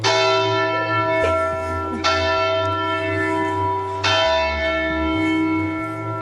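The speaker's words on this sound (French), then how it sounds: "Et c'est l'heure des cloches en plein direct." Bells of the Bollée carillon at Saint-Jacques church in Châtellerault ring loud and close from the tower, with three fresh strikes blooming over long, overlapping resonant hums.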